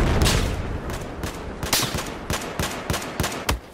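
Semi-automatic single shots in Battlefield 4, a loud close run of separate cracks at an uneven pace with no voices over them.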